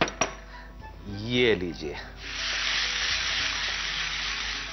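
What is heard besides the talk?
soaked urad dal added to a hot sizzling pan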